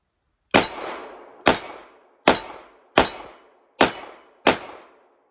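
Six evenly spaced metallic clangs ring out from a steel target struck by .38 Special rounds fired from a Charter Arms Police Bulldog snub-nosed revolver with a 2-inch barrel at 10 yards, each a sharp ping with a ringing decay.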